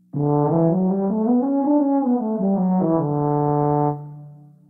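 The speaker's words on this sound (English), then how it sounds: "This musical instrument is a French horn." A French horn plays a sustained, mellow melody of a few connected notes, alone and clear, then fades out.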